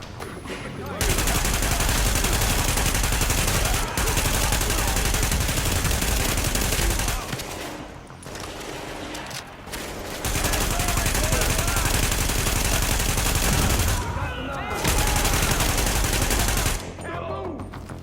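Sustained automatic gunfire in a firefight in The Division, loud and dense bursts filling most of the stretch with brief lulls between volleys; voices are faintly mixed in.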